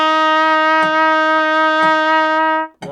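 Trumpet holding a single sustained F with the first valve pressed, a bright steady tone lasting over two seconds against soft rhythmic taps, then stopping abruptly.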